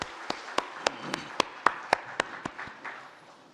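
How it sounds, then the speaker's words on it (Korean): A church congregation claps in unison at a steady pace, about ten sharp, even claps ringing through the room before trailing off into quiet. "하나님께 영광의 박수 드립니다."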